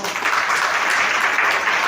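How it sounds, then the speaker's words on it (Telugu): Loud, dense applause from a church congregation during Sunday Pentecostal worship, steady and close, filling the whole moment without a break. "చప్పట్లు కొట్టండి మా"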